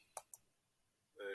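A computer mouse gives two quick, sharp clicks a fraction of a second apart in a quiet room. A brief voice follows moments later.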